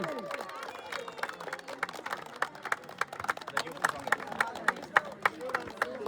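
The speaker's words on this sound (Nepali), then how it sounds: "फेरि पनि जोरदार ताली।" Crowd applause at a village football match, steady rhythmic clapping from many hands building in strength and sharpness, with murmuring voices underneath.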